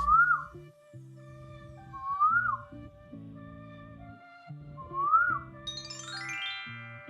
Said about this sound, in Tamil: குயில் கூவும்.